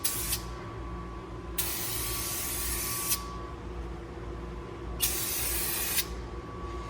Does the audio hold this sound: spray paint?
yes